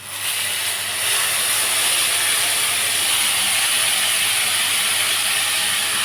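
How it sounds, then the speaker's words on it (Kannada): Tamarind juice for puliyogare hits hot oil and erupts into a loud, steady hiss that builds within the first second and then holds as a dense, unbroken sizzle, with no one speaking. "ನೋಡಿ, ಹುಣಸೆ ಹಣ್ಣಿನ ರಸ ಹಾಕೋತಾ ಇದ್ದೀನಿ."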